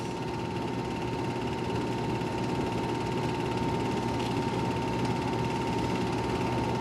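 Race cars at the Daytona track during a close short race drone steadily as they run past, a continuous mid-pitched engine hum with faint ripples and no talking.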